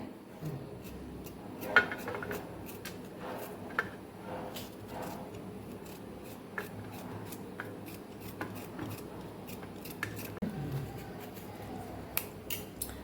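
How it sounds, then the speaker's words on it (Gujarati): A knife chops cucumber, onion and tomato finely on a board, making quiet, irregular ticking taps and scrapes that come in short bursts, soft and close with no voices. "આપણે હવે કાકડી અને ડુંગળી અને ટમેટાને ઝીણું ઝીણું આપણે સુધારી લેવાનું છે।"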